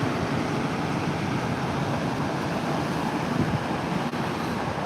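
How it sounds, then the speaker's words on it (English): Strong, steady outdoor wind roars close to the microphone in a broad rumbling gust with no pauses, loud and continuous throughout. "Can you guys even hear me with the wind?"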